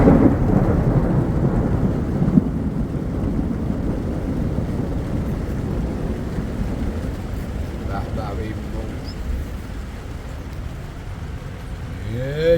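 Rumbling thunder rolls through a heavy downpour over a nomadic family's camp, with rain roaring loud and continuous and a deep rumble building throughout.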